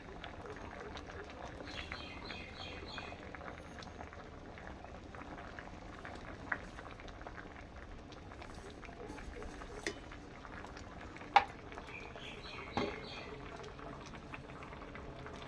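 Red sweet potatoes simmer in a covered pot, giving a faint, steady bubbling with a few small clicks and taps over a quiet background.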